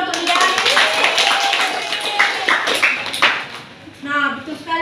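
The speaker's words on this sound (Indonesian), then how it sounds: "tepuk tangan dong untuk dia" Scattered clapping from a small school class, steady and fairly close, running beneath a person talking over it.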